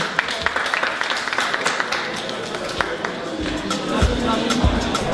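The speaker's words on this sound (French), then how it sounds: "On peut applaudir pour nos intervenants et pour vous-même." Scattered clapping from a conference audience, fairly loud and uneven, with voices murmuring underneath throughout.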